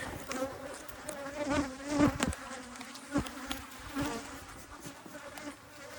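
Swarming honeybees from a strong hive buzzing outdoors, a dense, fluctuating drone with individual bees zipping close past the microphone in brief louder passes.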